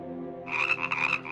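Frogs and toads croak close by in a short burst, a rattling, pulsing chorus of rapid repeated calls that swells after a brief lower hum, with no voices.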